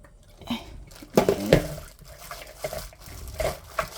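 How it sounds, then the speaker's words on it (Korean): Wet shredded dried squid squeezed by hand to press out the water, giving soft, close squelching and dripping with a couple of crunchy crinkling bursts near the middle. "이 상태에서 물기를 쭉 짜서"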